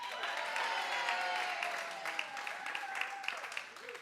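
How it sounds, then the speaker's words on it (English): A crowd at a company quarterly update meeting applauds and cheers steadily, a dense wash of clapping at moderate distance that gradually thins out toward the end. "one gigantic cheer for all of them"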